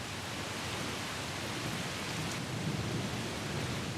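A rain shower over the savanna, a dense steady wash of falling rain with a low rumble beneath, continuous and unbroken.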